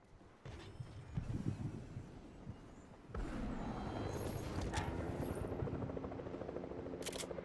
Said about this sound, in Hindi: कोई हेलीकॉप्टर लेके आया लगता है।